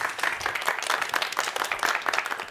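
A Finnish television studio audience applauds with dense, steady clapping that carries on throughout, moderately loud and even.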